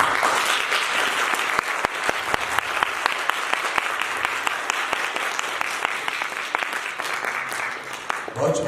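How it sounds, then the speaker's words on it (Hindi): Audience in a hall applauds after a drama performance, sustained many-handed clapping with a few sharp individual claps standing out, loud and continuous before fading slightly at the end. "ड्रामा कैसा लगा ये तो जजेस और हॉल में बैठे हुए दोस्तों की तालियां बताएंगी।"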